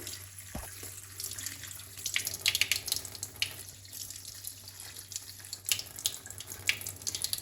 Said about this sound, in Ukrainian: промиваємо нашу м'яту